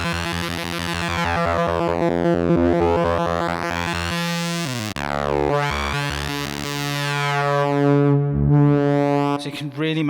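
A Yamaha CS01 synthesizer with its resonant 12 dB filter pushed to a screaming pitch, then mixed with white noise. Loud sustained tones sweep up and down with buzzy harmonics, and a brief noisy section comes near the end.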